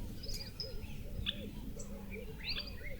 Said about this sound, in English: I really love sitting here and just listening to the birds and the desert sounds